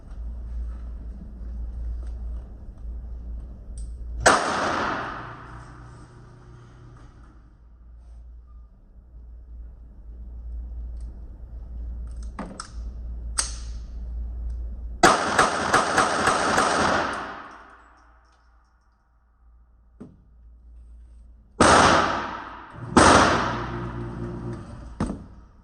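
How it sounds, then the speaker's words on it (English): A Beretta 21A Bobcat pistol fires eight rounds, seven from the magazine plus one chambered, at self-defense pace: sharp, loud cracks, one alone, then a quick cluster and a final pair, separated by quiet gaps. "I'm going to fire 8 rounds with the Beretta, 7 in the mag, 1 in the barrel."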